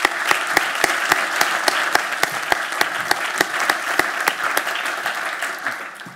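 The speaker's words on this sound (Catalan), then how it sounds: "Un fort aplaudiment, sisplau." Steady audience applause at a civic event in the City of Motorcycles mayoral-candidates forum, dense and continuous with sharp individual claps standing out, sustained for about six seconds before tapering slightly at the end.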